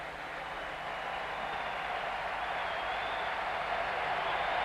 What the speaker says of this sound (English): They're giving him a round of applause, and good show of sportsmanship here at the Super Bowl.